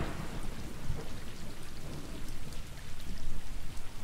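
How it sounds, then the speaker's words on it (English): Steady heavy rain with low rumbling thunder from the video game Stray, a continuous dense hiss and patter that swells slightly toward the end, with no voices. "Aw, the cats are in the rain,"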